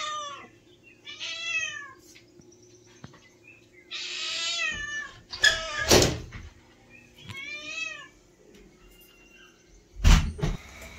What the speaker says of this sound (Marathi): आमचा मांजर बघा कसं